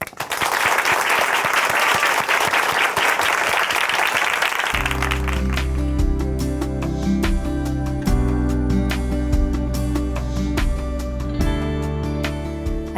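An audience applauds to welcome a speaker at a Korean church program, loud dense clapping for about five seconds that gives way to music with a steady rhythmic beat.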